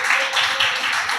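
Church congregation clapping together at a Tamil Christian service, a dense steady patter of many hands continuing evenly throughout, moderately loud with no voices over it.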